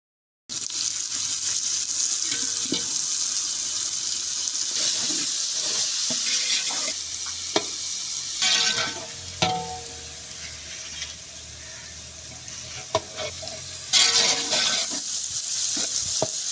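Tomatoes frying in a pan in a village-style kitchen, with a steady close sizzle and intermittent stirring clatter, plus occasional water splashes, throughout the clip without talk.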